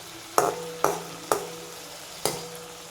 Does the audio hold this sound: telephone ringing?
no